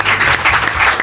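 A studio audience on a French late-night talk show breaks into loud, dense clapping, a steady close wash of applause for the whole moment.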